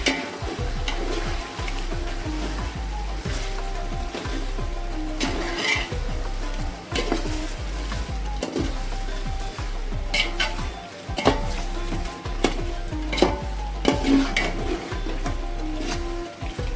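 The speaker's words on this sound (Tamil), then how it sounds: "தக்காளி, பச்சை மிளகா, நல்லா கலந்து விடுங்க" Tomatoes and green chillies sizzle steadily in a pan while being stirred for a mutton biryani, a loud continuous fry punctuated by repeated scraping and clinking of the spoon against the pan, with no talking.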